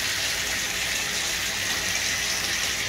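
Running water rinses soapy American bully puppies during their first bath, a steady close gushing flow like a tap or sprayer that holds throughout without pause.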